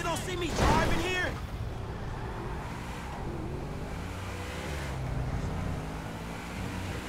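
A car driven in the video game GTA 5, engine drone and road noise running steadily under game dialogue, with a louder burst near the start.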